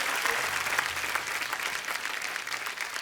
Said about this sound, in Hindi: एक बार जोरदार तालियां हो जाए हमारे तमाम कलाकारों के लिए।